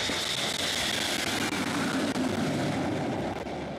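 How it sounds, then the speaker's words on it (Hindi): Indian Air Force Mirage 2000 fighter jet touching down on the Yamuna Expressway during an emergency landing trial, a loud, steady broadband jet roar that holds constant throughout with no voices. "मिराज 2000 एयरक्राफ्ट यानी भारतीय वायुसेना के इस फाइटर एयरक्राफ्ट ने यहां पर टच डाउन लैंडिंग की"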